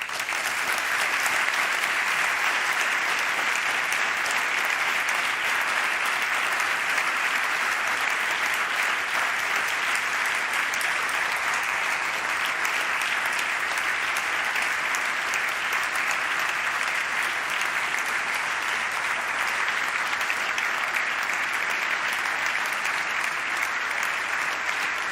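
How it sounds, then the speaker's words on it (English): Sustained, loud applause from a large audience at the 2021 FIM MotoGP Awards ceremony, steady and dense clapping filling the hall with no break for its full length. "So, please join everyone here in a round of applause in Jason to celebrate his life."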